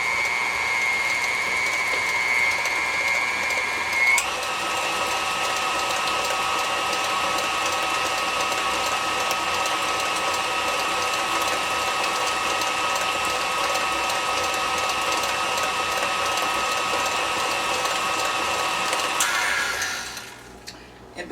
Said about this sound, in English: This is an old mixer.